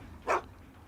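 Dogmeat, the dog companion in Fallout 3, gives a single short bark, sharp and fairly close over a low background.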